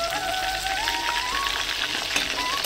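Meat deep-fries in hot oil for a village-style biryani, a steady hissing crackle held at an even moderate level throughout, with no one speaking.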